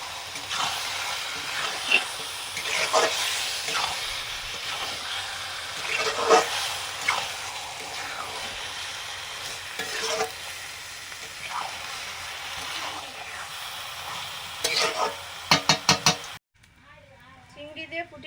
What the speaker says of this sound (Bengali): মাংসটা দিয়ে দেবো।